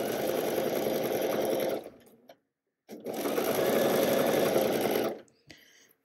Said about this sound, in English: now I'm just going to sew right in the middle of that twill tape